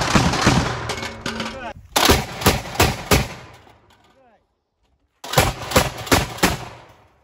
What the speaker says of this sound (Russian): Миномет, огонь! Выстрел!